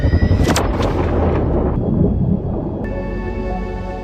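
An explosion in a Kraken monster film: a few heavy booms open, then a deep rolling rumble fades under a steady, droning tone.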